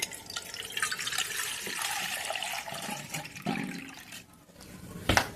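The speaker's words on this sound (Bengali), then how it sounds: "আপনাদের সামনেই আমি জল দিয়ে পুরো ভরে দিচ্ছি" Water is poured into a basin to fill it, giving a continuous splashing, gurgling rush that stays fairly close and steady for several seconds. A brief knock comes near the end.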